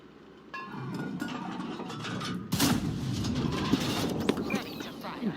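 Gunfire from a tank's main cannon in World of Tanks, booming once as a loud, sharp blast about halfway through over steady rumbling battle and engine noise, with a few smaller thuds after.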